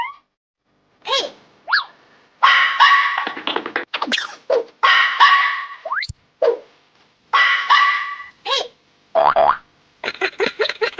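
A dog barks and yips in short, high, excited bursts with whimpering breaks between them, loud and close, in a cartoon-style scene with no talk over it.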